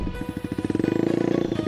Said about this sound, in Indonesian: Untuk suaranya seperti ini.